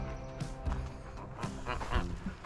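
Geese honk in a farmyard on a hot, dry day, several calls overlapping in short bursts at moderate distance with some background chatter.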